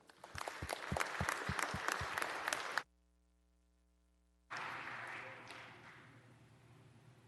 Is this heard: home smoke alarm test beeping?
no